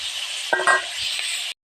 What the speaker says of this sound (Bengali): এদিকে পটলটা ভাজা হচ্ছে